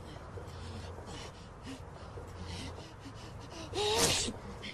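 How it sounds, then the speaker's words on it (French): A single sharp sneeze, triggered by a feather pillow, bursts out near the end, loud and close, after a stretch of quiet room noise. "cet oreiller, ça me fait éternuer"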